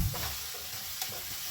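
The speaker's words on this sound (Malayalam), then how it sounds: "tomato sauce 1 table spoon, soya sauce 1 table spoon ഇതും കൂടി ചേർത്ത് നല്ലതുപോലെ ഒന്ന് മിക്സ് ചെയ്തെടുക്കാം" Chicken in a pan with tomato sauce and soy sauce being stirred, a soft steady sizzle under a few light scraping strokes of the spoon, close and moderately quiet.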